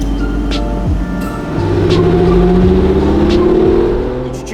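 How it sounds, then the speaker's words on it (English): A 2013 Aston Martin DB9 with a naturally aspirated V12 engine driving, a loud, close, steady engine drone that rises in pitch as it pulls, with no talk over it. "is the very last of the naturally aspirated V12 Aston Martins."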